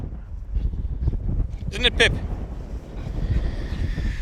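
Strong wind buffets the microphone on a very windy hilltop in northeast England, a steady low rumble running under a voice as he talks throughout.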